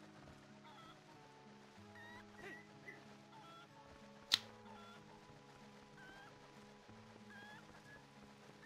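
Chickens cluck faintly in The Legend of Zelda: Twilight Princess, scattered over a steady game music bed, with one sharp brief accent midway.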